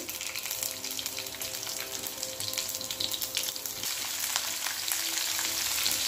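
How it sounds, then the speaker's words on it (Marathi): Cumin, mustard seeds and hand-cut garlic cloves fry in hot oil for Gujarati kadhi, making a soft continuous crackling sizzle with faint occasional pops and no speech. "अर्धे जिरे अर्धे मोहरी हे टाकून घ्यायचं आणि हाताने कट करून घेतलेला हा लसूण आहे 4-5 पाकळ्या, ते टाकायचं. छान लसूण भाजून घेऊया आधी."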